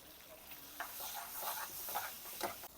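Chicken fries in oil with onions, a soft sizzle broken by several scraping stirs of the spoon, fairly faint and close, without talking.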